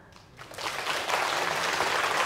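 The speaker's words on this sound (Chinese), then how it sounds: "为自己、为他们取得的成就鼓掌" Applause breaks out at a pipa concert, quickly swelling from quiet into a dense, sustained wash of many hands clapping.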